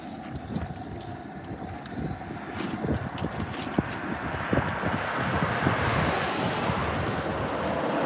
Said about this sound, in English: especially with all this wind